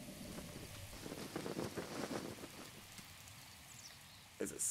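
Steady rain falls in the open world of The Legend of Zelda: Breath of the Wild, a soft continuous patter with gusty wind noise, faint and hissing, with a brief louder knock near the end.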